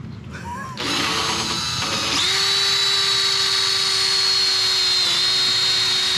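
A power drill runs steadily and close by during an oil change on a Harley-Davidson Lowrider S M8, starting with brief bursts, then holding a continuous high whine for several seconds with no talking.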